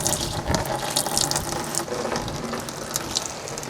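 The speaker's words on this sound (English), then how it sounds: "So we'll just let that continue to drain. That's going to drain the radiator mainly." Coolant draining from the radiator of a 1995 Ford Crown Victoria during a cooling system flush, a steady close splashing trickle of liquid with no talk.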